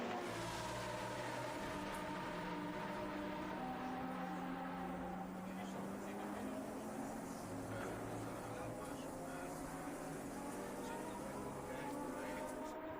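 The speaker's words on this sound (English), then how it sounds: "we could hear the roar of KTM's engine" A purple KTM race car's engine roars at full throttle during a GT Cup Series race at the Red Bull Ring circuit. Its pitch sweeps up and down through the gears, steady and loud beneath continuous commentary.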